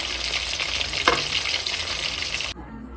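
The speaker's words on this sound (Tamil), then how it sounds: "இந்த பக்கம் ஒரு 1 மினிட் நல்லா வந்து ஃப்ரை ஆகட்டும்." Quail deep frying in hot oil, a dense, steady sizzle close up with a brief stir partway through, then a sudden drop to near quiet.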